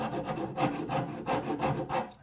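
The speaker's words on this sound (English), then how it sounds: "This rasp right here has a nice fine cut to it." A fine-cut rasp shapes the contour of a wooden guitar neck in repeated raspy strokes, about four clear passes with steady rhythm, close and moderately loud with no talking.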